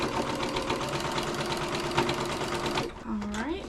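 A sewing machine stitches a stuffed pumpkin pillow made from dish mats, running in a steady close whirring rattle that stops near the end, with someone talking over it.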